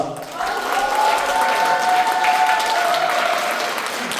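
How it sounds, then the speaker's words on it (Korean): An audience applauds to open a lecture event hosted by a political party's regional committee, with a dense, sustained round of clapping that swells and holds steady for several seconds, along with a faint tonal hum. "여러분의 뜨거운 박수와 함께 서영교 국회의원 강연 행사를 시작하겠습니다."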